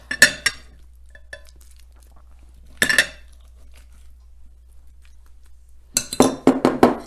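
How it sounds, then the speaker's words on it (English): Raw apple crumble spooned into a serving dish: a few sharp clinks of a spoon against the dish, close and isolated, then a quick cluster of scraping taps near the end, with quiet gaps between. "So now you spoon some of this into a serving dish."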